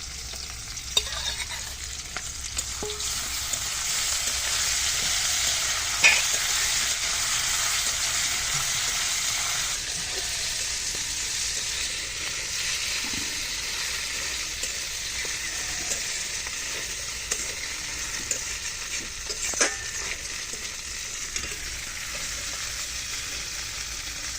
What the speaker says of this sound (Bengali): মাছ, পেঁয়াজ, কাঁচা লঙ্কা দিয়ে খুব সুন্দর করে ভেজে নিয়েছি